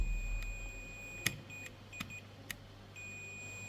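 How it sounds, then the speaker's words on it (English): Faint short electronic beeps from a multimeter continuity test on an Asus laptop motherboard MOSFET, three or four brief pips over a quiet background with a steady high tone. "we've got a beep, so we've got a short circuit here"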